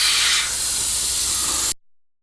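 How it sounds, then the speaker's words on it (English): A steady, loud hiss of aerosol spray paint runs continuously for under two seconds, then cuts off abruptly into silence. "So I'm just going to spray all of this."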